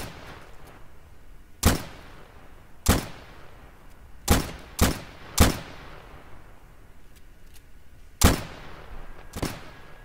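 Rifle shots crack out in a Garry's Mod WWII roleplay battle: seven sharp reports at irregular intervals, each with a short echoing tail, ringing against quiet ambience.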